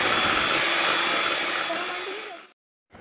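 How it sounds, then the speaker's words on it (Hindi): An electric mixer whirs loudly and steadily as it beats butter and sugar for vanilla cupcakes, then winds down and cuts off near the end. "अब हम इसको बहुत अच्छी तरीके से बीट करेंगे"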